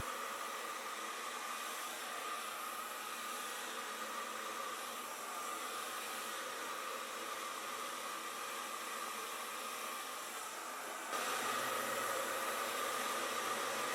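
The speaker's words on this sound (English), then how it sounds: "Then with the comb attached, I'm further blow drying." A hair dryer with a comb attachment blows steadily close by while drying natural hair for a silk press, a continuous airy hiss that grows slightly louder for the last few seconds.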